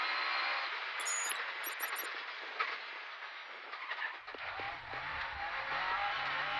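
Rally car at speed on a forest stage at the Ravens Rock Rally 2018, its engine a loud, steady roar that holds throughout, then surges and drops at the end as the car passes close by.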